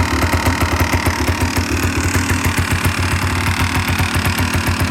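A 1985 Honda ATC 250R three-wheeler engine idles close by with a steady, rapid, evenly pulsing chug that stays constant throughout, with no talking.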